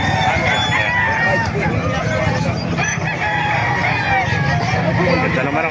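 Roosters crowing amid a busy open-air chicken market in Calumpit, Bulacan, with clucking fowl and crowd babble and talk filling the scene continuously.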